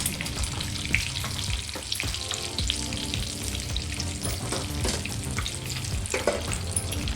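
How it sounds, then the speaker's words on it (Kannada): Egg curry masala fries on a low flame, a dense continuous crackling sizzle with faint scrapes of stirring, steady and close throughout. "ಸೊ ಇದಿಷ್ಟು ಚೆನ್ನಾಗಿ ಇದನ್ನು ಫ್ರೈ ಮಾಡಿಕೊಂಡು ಸ್ವಲ್ಪ ಕೆಂಪುಗೆ ಬ್ರೌನ್ ಬರೋ ಹಂಗೆ ಸ್ವಲ್ಪ ಫ್ರೈ ಮಾಡಿಕೊಂಡು"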